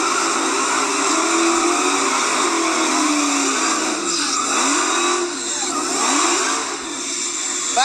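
Two Dodge Hellcat cars at a shootout, engines revving and droning steadily with rising and falling whine, loud and close throughout.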